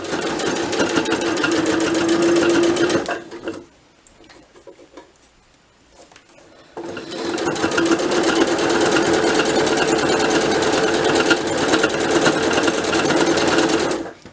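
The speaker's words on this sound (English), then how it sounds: "leaving my needle down and stitching all the way across this other long side here" A sewing machine stitches pleated fabric in two loud, steady runs of rapid mechanical whirring, broken by a brief quieter pause in the middle while the needle stays down.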